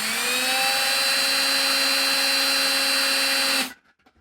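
A power drill drilling holes in metal for a blind sculptor's metal work, a loud steady high-pitched whine held for over three seconds before it abruptly stops.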